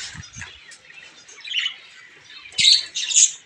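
Diamond doves in a cage give short squawking calls and chirps, close and intermittent with quiet gaps, the loudest bursts near the end.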